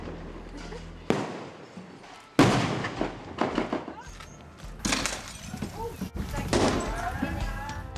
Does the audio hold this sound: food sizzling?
no